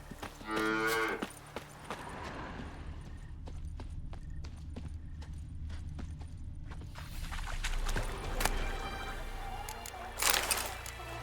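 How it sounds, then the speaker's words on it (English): Game cow in The Witcher 3 lets out a short moo at the start, then further bellows near the end, set against ambient countryside noise and occasional clopping hooves. "Cow!"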